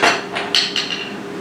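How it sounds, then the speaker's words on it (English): Sharp metal hammer strikes punching out a 1/4 inch rivet on a hand-forged gate, four close, loud blows spaced unevenly over a second or so, with a ringing tail. "Now just punch that out from behind, and you have your rivet."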